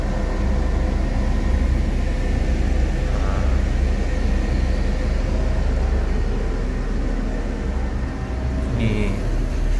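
Inside a moving Adhi Prima Suites Class Mercedes-Benz 1626 bus with air suspension and double glazing, a low, steady engine and road rumble fills the cabin without pause.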